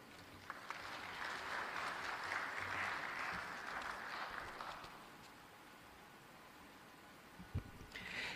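An audience applauds at a coffee summit, a broad sustained wash of clapping that swells and then thins out, heard without talk.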